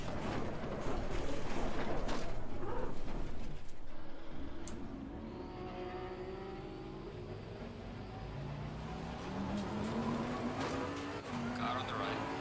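Race cars roar through a racing video game, their engines rising and falling in pitch with gear changes and occasional tire squeal. A voice talks over the steady engine noise.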